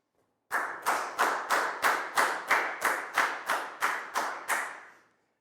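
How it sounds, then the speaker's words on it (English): A small classroom group claps for a pupil in a Year 4 maths lesson, about a dozen distinct, evenly spaced claps in a steady rhythm, close and clear, with no talk over them. "High five and a big round of applause for Pat, please, guys."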